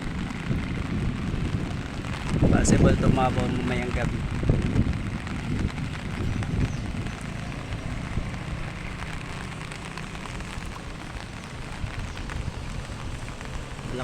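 Continuous heavy rain pattering on surfaces near a rising, nearly overflowing waterway, with a brief voice speaking early on, steady and moderately loud throughout.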